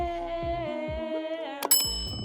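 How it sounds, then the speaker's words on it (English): A bell rings with a bright ding partway through, its clear ringing tone sustaining after the strike over a steady background hum. "Can you ring my bell?"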